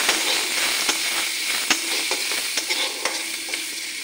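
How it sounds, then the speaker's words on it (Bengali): Chopped onions frying lightly in a pan with cardamom, cinnamon and cloves: a steady bright sizzle broken by regular scraping stirs every half second or so, close and fairly loud. "পেঁয়াজটা একটু হালকাভাবে ভাজা করে নিই।"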